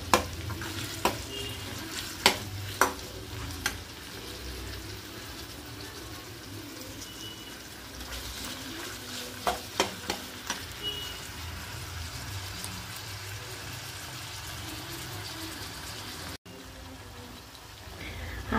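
Green chillies roasting in a pan while paneer butter masala is cooked at home, giving a steady low sizzle with scattered sharp ticks and pops near the start and middle, plus faint cooing of pigeons in the background and no talk.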